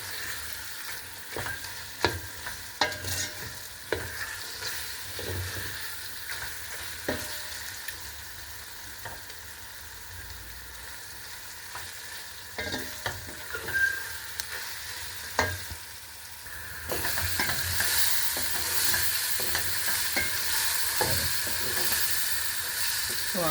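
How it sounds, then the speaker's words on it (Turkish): Onions and tomato paste sizzle and fry in a pan while being stirred, with scraping spoon strokes over steady close sizzling that grows louder and hissier toward the end, and no talking. "Biraz da salçayla kavrulması gerek ki salçanın kokusu gitsin."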